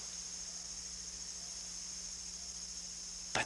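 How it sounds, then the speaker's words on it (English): Crickets chirp outdoors as a steady, continuous high trill that holds evenly throughout, fairly faint against a quiet background with a low hum. "the crickets are chirping very brightly"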